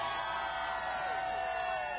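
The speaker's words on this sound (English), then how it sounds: "I've got a great crowd behind me" Outdoor crowd at the Pan Mass Challenge opening ceremonies cheering and whooping, a sustained wash of distant voices with no clear single speaker.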